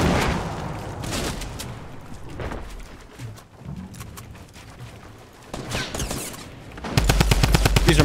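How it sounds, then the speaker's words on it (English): Tommy gun fire in a video game: a few short bursts early, then a rapid, loud rattling stream of shots near the end, with quieter game ambience between. "That Tommy gun sounds so good"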